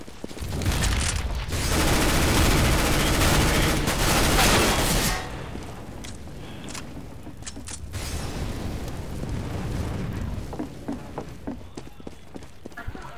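Grenade explosion and gunfire on the Italy map of Counter-Strike: Global Offensive, a long loud burst of blast and shots followed by scattered gunfire, with voices talking in between.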